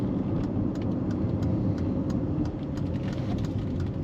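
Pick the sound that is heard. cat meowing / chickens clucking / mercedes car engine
mercedes car engine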